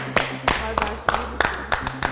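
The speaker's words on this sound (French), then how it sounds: "Moi, je vous applaudis parce que vous pouvez vous applaudir." A few spaced hand claps, slow and fairly close, with quiet background hum between them.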